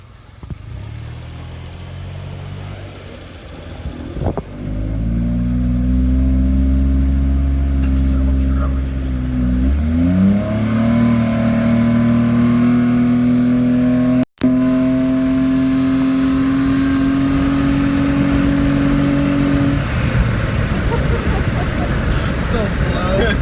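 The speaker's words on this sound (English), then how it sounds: "I say we take a drive and see how throaty it sounds in the car." A small, cheap new car fitted with a cold air intake accelerates while driving, its engine note climbing through the gears in a rising, throaty drone that dominates the cabin, with talk heard inside.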